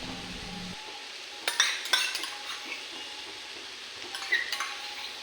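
Hakka noodles coated in soy, tomato and red chilli sauces being stirred and tossed in a pan, with scraping clinks of a utensil and soft sizzling, a few sharper bursts of stirring in the middle and near the end.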